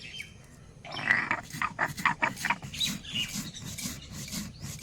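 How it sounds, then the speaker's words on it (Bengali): Roasted cumin seeds being ground on a stone, an uneven run of scraping, crunching strokes close by, fairly quiet, with no speech. "ভাজা জিরে এবার বেটে নেব"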